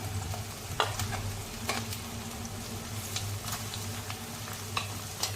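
Ginger garlic paste fries in a pan for masala semiya, a continuous quiet sizzle broken by scattered spoon scrapes and taps as it is stirred, without speech.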